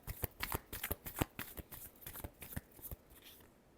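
A deck of tarot cards is shuffled close up, a quick series of crisp riffling flicks and slaps that fades out in the last moments, with no talking.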